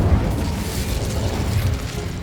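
The Incendio fire spell cast in the video game Hogwarts Legacy, heard as a steady, dense burst of roaring, crackling fire that holds at a fairly loud level for about two seconds.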